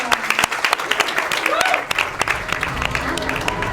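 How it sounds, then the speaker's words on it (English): A cruise ship audience claps for the culinary and service team aboard Royal Caribbean's Legend of the Seas, sustained applause with sharp individual claps, lightly mixed with crowd murmur. "Let's give this fabulous culinary and service team a huge round of applause."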